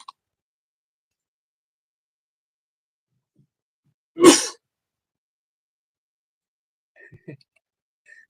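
A single sharp sneeze bursts out close and loud during a quiet live stream, standing alone amid near silence with a few faint small noises later.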